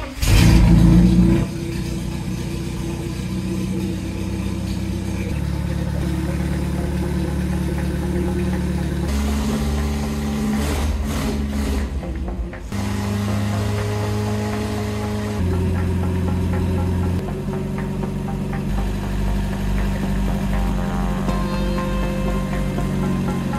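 Renault R2087 4x4 tractor engine starts with a loud burst and settles into a steady diesel idle, its pitch and tone shifting several times as it runs, close and continuous throughout.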